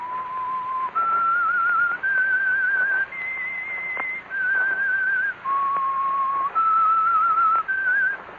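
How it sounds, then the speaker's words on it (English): A lone whistler carries the slow tune of a radio show theme in long sustained notes, rising then falling, with brief gaps between phrases over faint background hiss. "That whistle is your signal for the Signal Oil program"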